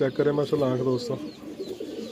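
Qasoori Imam Deen pigeon, a female breeder bird, giving a few soft throaty coos up close while someone talks over it.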